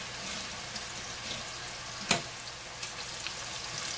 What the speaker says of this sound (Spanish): Recuerden, estoy friendo 12 tortillas.